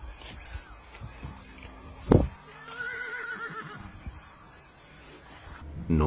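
A horse whinnies once, sharp and close, with a quieter drawn-out neigh afterward against a faint background of insects at night.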